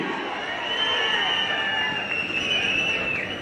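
Crowd at a political rally in Rayalaseema cheering and applauding a chief minister's speech, a sustained roar of clapping and voices filling the whole stretch, loud and close.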